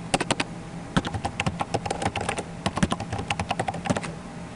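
Rapid typing on a computer keyboard while a description is entered into a form, with close, crisp key clicks in uneven bursts and short pauses throughout, and no voices.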